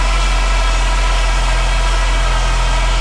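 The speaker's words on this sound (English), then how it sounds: "I hear a power steering whine" A Saab 9-3 Turbo with low oil pressure idles steadily, and a constant whine from the power steering rides over the engine's low, even hum for the whole stretch.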